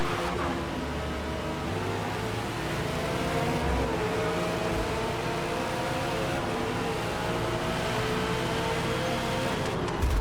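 McLaren 720S GT3 race cars at the start of a race at Laguna Seca in Forza Motorsport: a continuous, loud engine drone from the pack with layered whines rising and falling in pitch, no voices.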